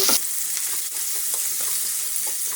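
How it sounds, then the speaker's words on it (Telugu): Curry leaves sizzle loudly in hot oil for a prawn fry, a steady crackling hiss with a sharp burst at the start and light stirring scrapes throughout, no voices. "కరివేపాకు 2 రెమ్మలు తీసుకొని ఆయిల్ వేసుకున్నాం కదా, అవి కూడా వేపుకోవాలి."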